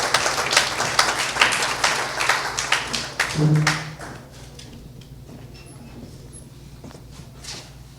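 An audience at the launch of a law fair applauds a speaker being introduced, dense steady clapping that thins and fades into a quiet room.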